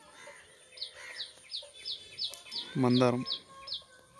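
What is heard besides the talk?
birds chirping in a home garden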